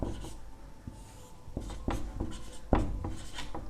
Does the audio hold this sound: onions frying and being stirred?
no